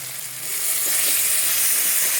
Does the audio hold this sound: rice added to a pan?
yes